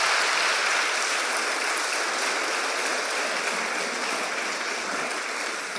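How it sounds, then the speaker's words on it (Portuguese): A church congregation applauds strongly, with a steady, dense wash of clapping that holds evenly for several seconds with no voices over it. "Então dê um forte aplauso ao Senhor para você que tem promessa de Deus."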